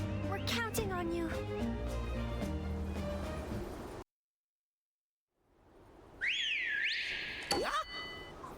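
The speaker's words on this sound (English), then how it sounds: "What was that noise? That's her whistling." A whistled signal in the Monster Hunter Stories video game rises and falls in a couple of bright sweeping notes after a burst of game music and a short silence, with game sound effects around it.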